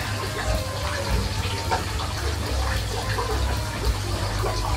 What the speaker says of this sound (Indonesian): sebentar saya cuci dulu aja akarnya